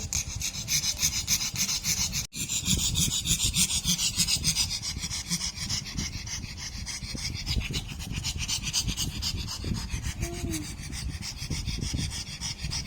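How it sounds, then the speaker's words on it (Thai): A pug dog in labour pants heavily and rapidly, a steady close rasping breath rhythm that continues throughout with little pause. "หายใจแรงมากเลย"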